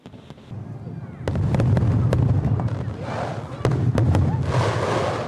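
Fireworks bursting in a rapid series of sharp cracks and booms at an ice-sculpture festival, loud and close, with crowd murmur and voices underneath.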